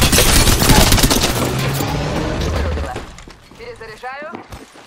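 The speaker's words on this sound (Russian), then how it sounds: "Эй, по мне тут стреляют." Dense video game gunfire crackles loud and close for about three seconds, rapid overlapping shots with a voice talking over it, then thins out to quieter scattered pops.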